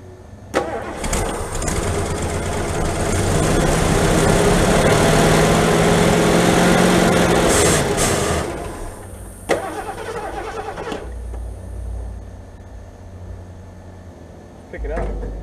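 An old car engine, part of a car revival, cranks and catches, then revs loudly before dropping to a rough idle, with people talking over it and a sharp knock partway through.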